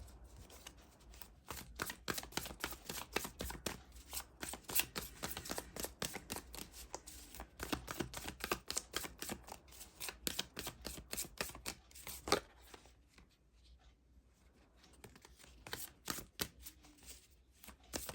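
Tarot cards shuffled by hand in a quiet room, a long run of rapid, crisp riffling flicks, close and fairly soft, pausing briefly near the end before resuming.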